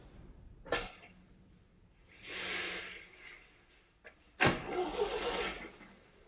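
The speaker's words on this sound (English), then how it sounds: "use the engine starter motor to undo the bolt" An MGB GT's starter motor cranks with the ignition coil disconnected so the engine won't fire, used to undo a bolt with a breaker bar. A sharp click comes first, then two rough whirring bursts of cranking, with no talk.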